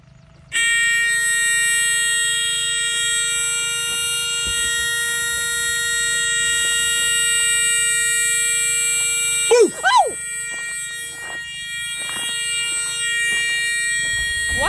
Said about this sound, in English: It's a warning buzzer letting you know it's fixing to run.